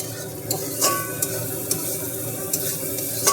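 Pomfret fish frying in a pan, with a steady close sizzle and a spatula scraping and tapping against the metal every half second or so.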